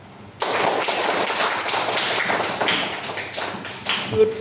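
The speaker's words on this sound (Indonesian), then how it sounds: "kita beri aplaus kepada kawan kita" Audience applause for a classmate in a school classroom, a dense burst of many hands clapping that starts abruptly and carries on steadily, fairly loud, with a few louder claps near the end.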